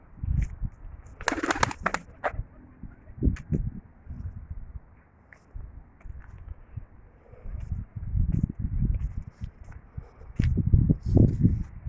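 Soft, low coos from a Sivas Sarıgöz pigeon repeat in short bursts, with some wing flutters and rustling nearby.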